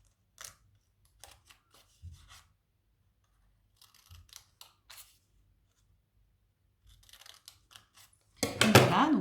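Scissors snip through paper for a paper windcatcher craft in a few sparse, soft, close cuts separated by silences, ending in a louder burst of rustling.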